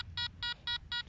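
Four short, evenly spaced electronic beeps from a metal detector signalling a target in sand, clear and close.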